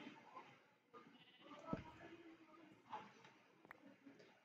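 Goats bleat in the blocky sandbox game Minecraft, a few wavering cries rising and falling over faint background noise, moderately quiet and at mid distance, with no talking over them.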